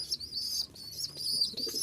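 Rajshahi Giribaz pigeons in a cage give soft cooing and chirping calls close by, overlapping in a busy, fluttering chorus over a faint background hum.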